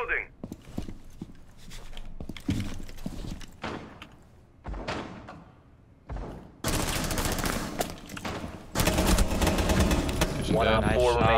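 Gunfire in the video game Rainbow Six Siege, with sharp bursts and sustained volleys of rapid shots growing louder toward the end. Players talk over much of it.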